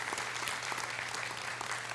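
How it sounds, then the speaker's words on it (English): A church congregation claps together in sustained, dense applause that stays even and continuous for a couple of seconds. "I think you all deserve a round of applause for that."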